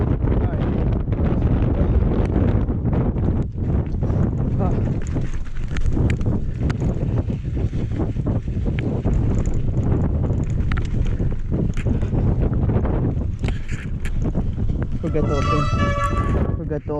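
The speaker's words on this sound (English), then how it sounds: "It's so super windy." Heavy wind blasts a mountain biking trail at Pacifica, a loud, unbroken roar of microphone buffeting that lasts the whole stretch, with a voice partly heard beneath it.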